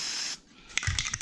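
A spray paint can sprays onto a metal sign for a steel producer, a close, loud hiss that cuts off abruptly, then returns as uneven, sputtering bursts from a can that is not spraying well.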